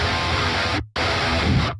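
Heavily distorted guitar through a Thall amp plugin, two short dense chugging bursts separated by a brief silent gap, loud and close with no speech.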